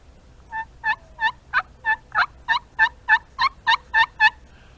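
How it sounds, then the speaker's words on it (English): An aluminum turkey pot call, scratched on its striking surface, gives about thirteen evenly spaced, sharp high-pitched yelps that build steadily louder, close and clear with nothing else over them. "What I have here is an aluminum call."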